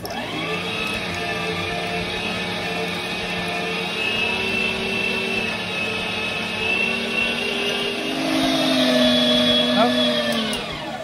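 A meat grinder pushing bread through to clear out the last deer meat, a steady droning motor whine with shifting tones that rises slightly near the end, loud and continuous with no talking.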